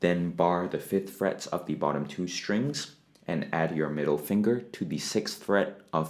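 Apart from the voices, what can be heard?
None of the usual background noises is heard.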